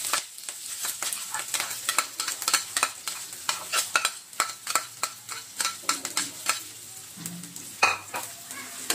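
Onion, garlic and green chili sautéed together in hot oil for sizzling hotdog: a constant crackling sizzle under repeated sharp scrapes and clicks of a spatula stirring against the pan, close and alone.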